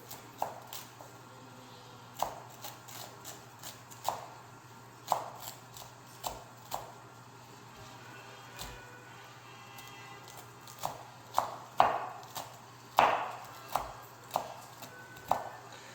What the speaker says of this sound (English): I'm just going to mince it up